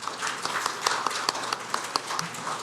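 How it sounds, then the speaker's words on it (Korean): Audience applause at the opening ceremony of the 2021 Social Innovation International Conference, a steady patter of many hands clapping with sharp individual claps standing out, moderately distant and sustained throughout. "다시 한번 뜨거운 박수 부탁드리겠습니다"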